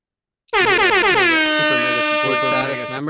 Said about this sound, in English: Let's get an air horn for Ben.